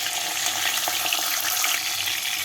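Ginger and green chili paste frying in hot oil, a steady close sizzle with a few soft crackles and stirring scrapes, loud and unbroken, no voices.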